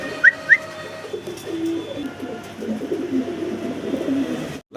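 A pair of yellow Andrup pigeons in a large coop, with low steady cooing throughout and two brief higher whistle-like calls near the start, close and moderately loud.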